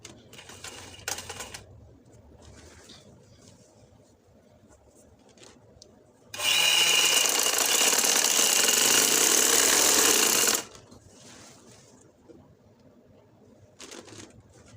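Sewing machine stitching the hem of an organza shirt lining, running in one steady, loud, fast whirring burst of about four seconds, set between quieter stretches of handling noise without speech.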